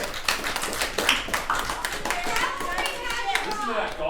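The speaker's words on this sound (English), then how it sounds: "Listen to that golf clap." Scattered light clapping, a polite golf clap from a small group, heard under ongoing talk and background chatter.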